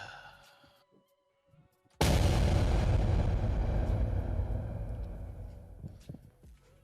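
A loud explosion cue bursts in suddenly after a quiet stretch, then rumbles on with a long, slowly fading roar.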